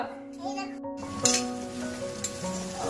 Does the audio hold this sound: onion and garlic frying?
yes